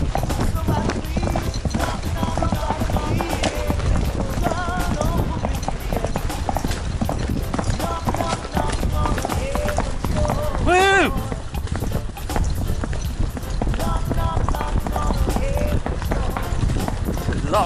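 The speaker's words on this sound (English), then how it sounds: "Saying goodbye to the horses. We had a nice little ride, but it's time to go." Horses walk along in a steady clip-clop of hooves after a ride, the rhythmic footfalls continuous and fairly close beneath people talking and outdoor background noise.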